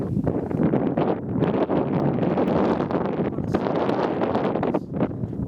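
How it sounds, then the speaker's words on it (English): Gusty wind buffets the microphone outdoors in the Australian Outback, a loud rumbling rush that surges and fades in uneven bursts throughout. "A little bit windy out today,"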